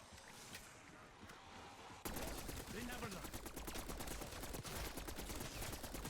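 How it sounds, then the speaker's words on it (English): Pack-a-Punched weapon gunfire in Black Ops 6 Zombies on Liberty Falls, rapid steady bursts of shots kicking in after a quieter opening and continuing loudly to the end, layered over busy game sound. "it changes the sound of the shooting for Pack-a-Punch like normal"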